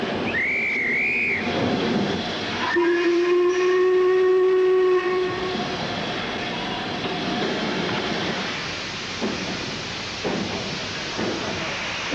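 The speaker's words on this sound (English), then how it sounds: "I think the train itself decided to stop." A train slows to a stop in a 1980s film scene: a short high whistle, then a long steady horn blast, followed by rumbling wheels and clanking carriages that fade toward quiet with faint voices.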